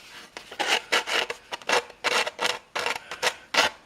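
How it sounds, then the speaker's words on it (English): Sandpaper rubbing along the edges of a cut plastic body panel for a custom Axial Wraith RC truck: a quick series of close, raspy back-and-forth strokes, about a dozen in under four seconds, with no talking. "You want to sand off your edges, because this stuff is like a razor blade."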